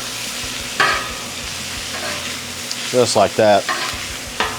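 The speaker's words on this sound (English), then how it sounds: "We're just gonna kind of baste our tenderloin all in that butter." Butter sizzles on a low griddle as venison tenderloin is basted, with a steady fry joined by a few sharp scraping strokes, close up, while someone briefly speaks over it.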